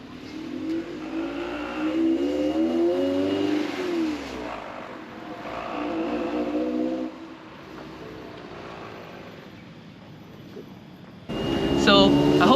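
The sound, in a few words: Toyota MR2 SW20 car engine during a ride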